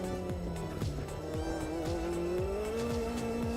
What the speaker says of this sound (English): you can hear the turbo spool up and go, and gets right in the rev range